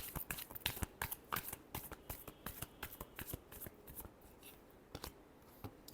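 Tarot cards are shuffled by hand in a fast run of crisp, close riffling flicks, quiet and continuous, easing slightly near the end.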